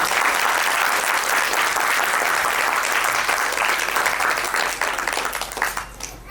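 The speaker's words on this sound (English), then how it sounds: "let's have a round of applause for all the teachers" Sustained, dense applause from an audience at a school annual day honoring the teachers, loud and steady throughout before thinning slightly toward the end.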